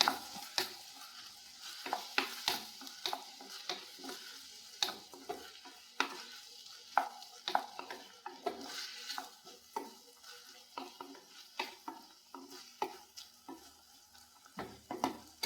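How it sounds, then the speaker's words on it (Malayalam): A spoon stirs pineapple thoran in a pan, giving repeated sharp scrapes and clinks at an uneven pace over a faint sizzle, close but fairly quiet, with no speech. "ഏറ്റവും ഇളക്കി കൊടുക്കാം"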